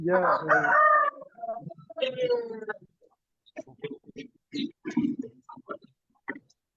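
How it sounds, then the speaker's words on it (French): A rooster crows twice in quick succession, coming through an online meeting microphone, and a voice starts talking after the crows. "Il y a des chants de coq là."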